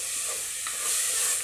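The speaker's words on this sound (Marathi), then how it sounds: "आता ही आपण भिजवलेली डाळ यात टाकणार आहे. ही डाळ सगळी मिक्स करून घ्यायची." Soaked masoor dal stirred into hot spices in a pan over low heat: a short, soft scraping stir under a faint, steady sizzle, close and quiet.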